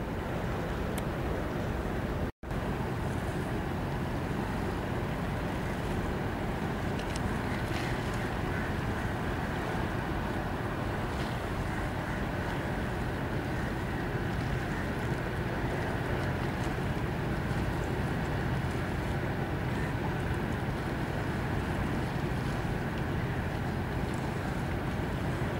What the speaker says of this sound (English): There's a tanker coming in right there.